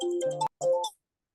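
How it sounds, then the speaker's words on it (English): A phone ringtone plays loudly as a short musical melody of repeated tones, cuts off briefly, then sounds again for a moment before stopping. "that was your phone, Coach John."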